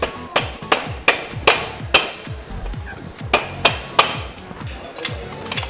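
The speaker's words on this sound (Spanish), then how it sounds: "Nos ayudamos con el martillo" A hammer taps a Kawasaki Versys X motorcycle wheel axle into place in a steady series of sharp, ringing metal taps, about a dozen blows close up, slowing and softening toward the end.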